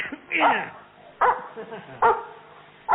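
A dog barks in short, evenly spaced bursts, four sharp woofs in a few seconds, as a sound effect in a radio-style audio comedy, with a brief spoken word between.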